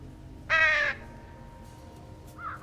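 A single crow caw from the video game Trüberbrook rings out clearly, followed by a faint second call, with quiet background otherwise.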